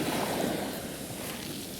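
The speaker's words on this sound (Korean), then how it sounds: "파도 소리까지 더 정신이 없네요" Ocean waves wash and roar steadily at the seaside, a continuous broadband rush with wind buffeting the microphone, loud and close with no talk.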